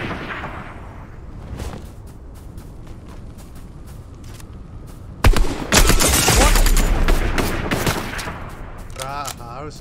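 Gunfire in the video game Fortnite, scattered single shots followed by a loud sustained burst of rapid automatic fire, with game effects and a voice talking underneath.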